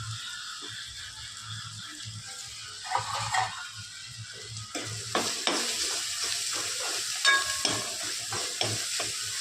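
Asafoetida hits hot oil for a spicy shev bhaji curry and sizzles, starting quietly and rising into a louder crackling fry, with utensil clinks and scraping stirs scattered through it.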